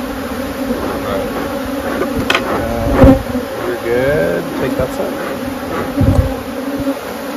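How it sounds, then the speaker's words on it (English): Dense buzzing of a swarm of honey bees hums constantly close to the microphone while people speak briefly over it. "It's because all the bees are on us and not in the box."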